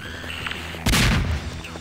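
A grenade bursts in Garry's Mod, a sudden loud broadband blast that cuts in abruptly amid a faint game ambience and rumbles on as it decays.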